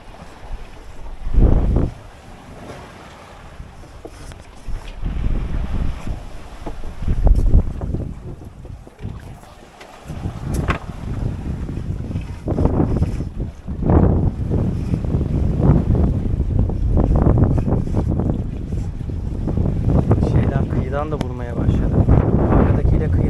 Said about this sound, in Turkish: Bayağı da güçlü esiyor.